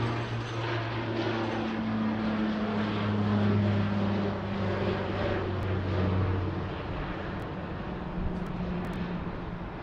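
A QantasLink aircraft at Sydney Airport hums with steady engine drone and low tonal propeller-like bands, fairly near and even throughout, with no talking.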